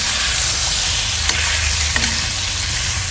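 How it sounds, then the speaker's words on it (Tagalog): Chicken wings sizzle and fry in their own rendered fat in a pan, a steady loud hiss broken by a couple of sharp scraping knocks as they are stirred, with no talking. "So medyo halu-haluin lang po natin ng bahagya."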